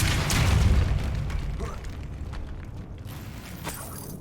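Depulso force spell in Hogwarts Legacy, a loud burst with a booming, rumbling impact that peaks right away and then fades into a lingering, crackling tail over several seconds.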